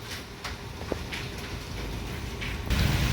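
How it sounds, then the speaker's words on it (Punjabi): Steady rain falling outdoors on a Punjab farm during a storm with hail and strong wind, a continuous broadband patter that swells louder toward the end, with no voices. "ਇੰਨਾ ਮੀਂਹ ਪੈ ਗਿਆ ਪਾਣੀ ਕਿੰਨਾ ਖੜ ਗਿਆ"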